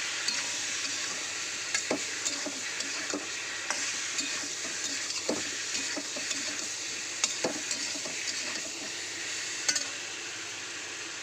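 Spices being stirred and fried with vegetables in a pan, a continuous hissing sizzle punctuated by repeated clinks and scrapes of the spoon against the pan, no talking.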